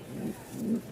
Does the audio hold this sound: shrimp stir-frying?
no